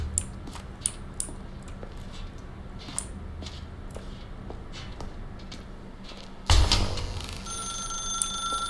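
A telephone rings in The Stanley Parable video game, repeated bright trilling bursts over a low hum, then a sudden louder clatter near the end as the ringing stops and a steady tone follows.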